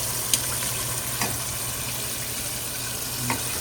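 Battered chicken thighs, the second batch, deep-frying in hot oil at home, giving a steady close hiss with a few faint pops and crackles throughout, no voices.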